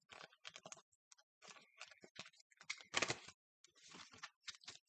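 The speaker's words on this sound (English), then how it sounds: "Let me shuffle the cards." Tarot cards being shuffled, with quiet clusters of quick riffling clicks and snaps in uneven bursts separated by short pauses, close and soft.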